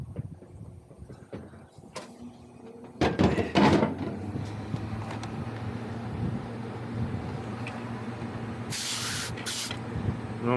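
Refrigerant manifold hoses being bled on a beer cooler refrigeration call, with a short burst of loud close hiss early on, then a steady mechanical hum and drone underneath and a couple of brief sharp hisses near the end.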